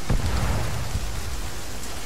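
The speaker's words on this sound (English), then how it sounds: "for a second I thought the rain was actually getting lighter. Nope, that just picked back up." Steady rain falls in the military game Arma 3, a dense, even hiss of drops across the whole stretch with a heavier low rumble early on, no voices over it.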